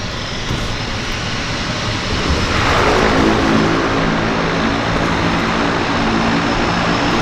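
A floatplane arriving at Vancouver Harbour's downtown water airport drones steadily, its propeller engine swelling louder midway as it approaches, with no talk over it.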